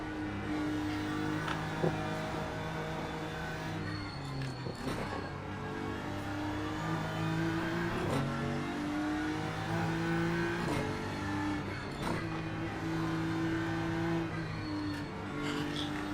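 Race car engine revving in a racing video game, a continuous loud harmonic drone that climbs and drops through gear changes across the whole stretch, with no voices.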